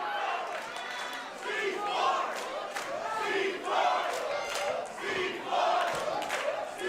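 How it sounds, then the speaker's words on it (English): A wrestling crowd at a Los Suavecitos versus C4 match roars and chants in rising, swelling waves, a loud continuous wall of cheering voices with no commentary over it. "Crowd coming back to life though for C4."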